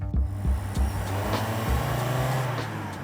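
Toyota Prius hybrid with a 2.0-liter inline four-cylinder driving, a steady low engine and road drone with faint rises in revs, heard from inside or close by, no voices.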